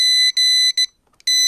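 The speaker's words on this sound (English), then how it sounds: "Sorry if that beeping's loud." Loud repeated electronic beeping from a dead new jump starter box with a broken negative lead, sounding in close, evenly spaced bursts with short gaps, no talking.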